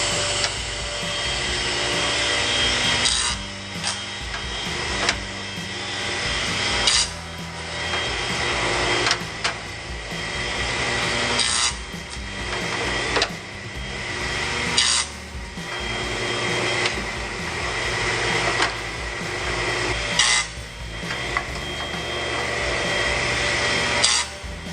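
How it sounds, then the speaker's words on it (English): Power tool cutting a dado along each end of wooden strips for beehive frames, a steady loud whine with the blade dipping and surging as each piece is fed through in a regular rhythm, no voices. "we're going to run the dado down each side of each end"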